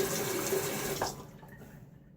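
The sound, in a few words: rinsing with running tap water after a shave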